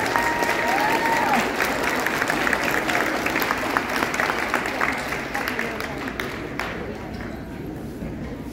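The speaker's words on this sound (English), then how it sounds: "Let's give them a round of applause." An audience at a university admitted-students reception applauds parents and family members, a dense, sustained wash of many hands clapping that carries steadily throughout, with some voices and cheers mixed in.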